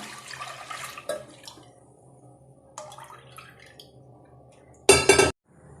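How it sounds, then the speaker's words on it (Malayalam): A litre of milk poured into a pressure cooker gives a soft splashing pour at first, then sparse metallic clinks and a brief loud burst of liquid and metal near the end, with no voices. "അതിനുശേഷം 1 ലിറ്റർ പാല് കുക്കറിലേക്ക് ഒഴിക്കുകയാണ്."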